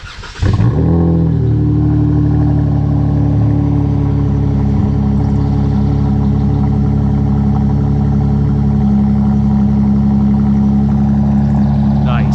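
Cold start of a Dodge Charger GT AWD V6 with the mid muffler deleted and a Vibrant resonator replacement: the engine catches with a sharp flare, then settles into a loud, steady, throaty idle that holds for the rest of the clip.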